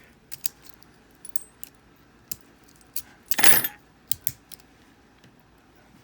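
Keys are taken off a Brinks solid brass padlock, with a series of sharp metallic clicks and light jingles and one brief louder rattling clatter midway, close and otherwise quiet.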